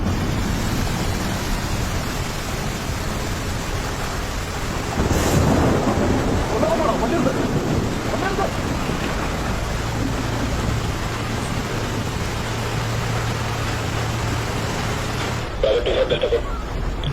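Heavy rain roars as a steady, loud wash of noise, with a deeper rumbling burst partway through that could be thunder. The sound cuts to near quiet at the very end.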